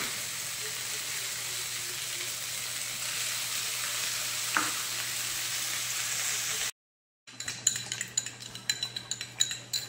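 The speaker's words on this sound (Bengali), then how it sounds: "মশলাটা দিয়েও খুব ভালো করে কষিয়ে নেব।" Spice paste frying in a pan, a steady sizzle that cuts out briefly, then returns with rapid metallic scraping and clinking of a spoon stirring against the pan, close and lively.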